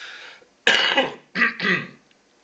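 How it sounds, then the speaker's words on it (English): Two or three harsh throat-clearing coughs close to the mic, a rough first burst followed by a pair of shorter hacks, no speech. "I'm going to cough."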